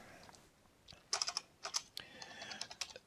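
Quiet, close typing on a computer keyboard, a slow start building into irregular clusters of crisp keystrokes, with no talk over it.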